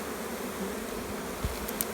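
A swarm of honeybees in flight fills the air with a continuous, dense buzzing drone, steady and close with no voices.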